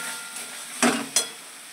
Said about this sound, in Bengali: আমি এই আলুটা দিয়ে আর একটু কষিয়ে নিই